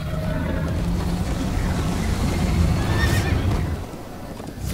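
Horse whinnies and hooves clop at a gallop in Minecraft Story Mode, with a rushing windy wash behind them and a rising neigh near the end.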